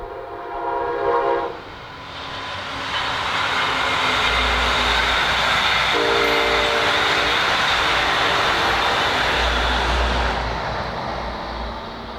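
Brightline Bright Green passenger train passing southbound, opening with a horn blast, then a second horn sounding midway over a loud, sustained roar of wheels and passing cars that stays strong to the end.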